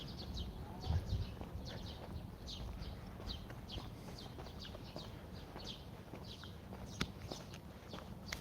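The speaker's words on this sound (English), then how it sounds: "Can you hear those birdie birds singing" Birds chirp steadily outdoors, many high, quick calls repeating throughout, with light rustling and soft thumps in the background.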